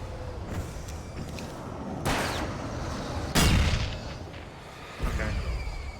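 Gunfire in the Alan Wake video game: a few heavy, booming shots spaced a second or two apart, each a sharp burst over a low murky game ambience.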